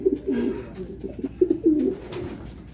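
A racing pigeon coos close by in soft, low throbbing phrases, several repeated calls in quick succession at a derby race loft.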